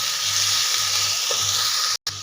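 Onion and tomato sautéing together in a pan for a quick breakfast pasta: a steady, close sizzling and frying hiss that runs without a break, with a brief cut near the end.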